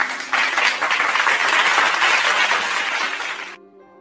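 A crowd claps for a man being welcomed onto a stage, a dense burst of applause that holds steady for a few seconds and then cuts off abruptly into a quiet tone.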